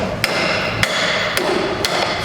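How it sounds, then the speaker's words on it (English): Ball peen hammer striking a VT–VZ control arm radius rod bush in a workshop: four sharp metallic strikes spaced roughly half a second apart over a steady background hum, with no talking. "I'm just going to give that a whack with a hammer, see? It's a ball peen hammer."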